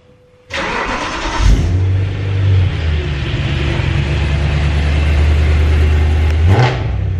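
A BMW M3 with an aftermarket exhaust starts with a sharp burst, then idles loudly and roughly with a deep, throaty rumble, ending in a brief rev near the close.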